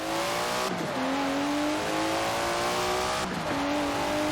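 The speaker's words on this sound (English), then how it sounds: "Never heard a Datsun sound like that, have you?" A modified Datsun car in the Forza Horizon 4 racing game revs hard, its engine climbing in pitch through gear changes with two brief shift dips, loud and continuous.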